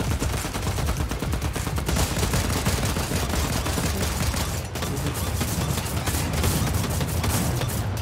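Drum shotgun blasting away in a video game: relentless, overlapping heavy shots forming a thick, loud barrage that runs continuously with only a brief dip partway through.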